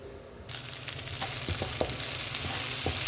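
Onions frying in oil in a pan for chicken shawarma give a loud, close, dense sizzle that starts abruptly and keeps crackling, with scattered pops and spatters and no voices.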